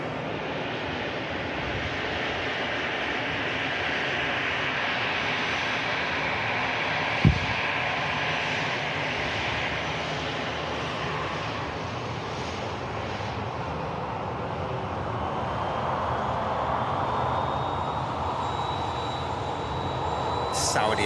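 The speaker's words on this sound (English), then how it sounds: "Saudia next out, just entering the active behind this Ryanair departing to Dublin." A Ryanair jet departing Manchester Airport for Dublin makes a continuous, even engine roar at moderate distance, with a single sharp knock partway through and no clear talk.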